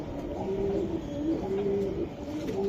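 A racing pigeon in a loft coos in repeated soft, throaty phrases, close and clear, several rolling calls in steady succession over a dull background hum.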